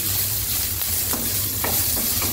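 Cumin seeds sizzling in hot oil give a loud, continuous frying hiss, with a few sharp crackles and spoon scrapes near the end.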